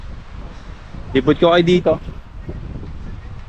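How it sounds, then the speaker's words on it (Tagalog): Strong wind buffets the microphone beside Mapanuepe Lake where boats are moored, a low continuous rumble running throughout while someone speaks briefly in the middle. "Medyo ano yung boses ko kasi lakas ang hangin."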